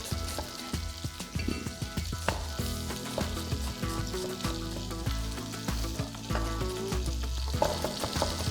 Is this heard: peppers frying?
yes